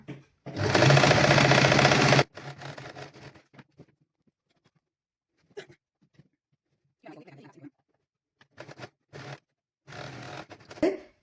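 A sewing machine runs in one loud, steady burst, stitching a half-inch seam on a children's garment, followed by quieter scattered handling sounds and soft bits of activity.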